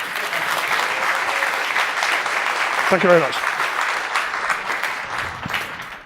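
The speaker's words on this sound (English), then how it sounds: "Round of applause for a world-leading expert in the room." A conference audience at a Chef software event gives a sustained round of applause, loud and even. Someone briefly speaks over the clapping.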